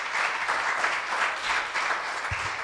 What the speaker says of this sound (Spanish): Denle un aplauso al Espíritu de Dios.